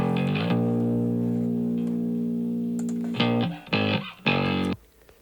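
A distorted Rickenbacker 4001 bass note, bottom end cut, rings out and sustains, then a few short, choppy distorted hits follow before cutting off.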